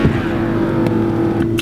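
Porsche 986 Boxster convertible top motor raising the roof, a steady electric hum and whir that holds a constant drone throughout, with a couple of faint clicks near the end.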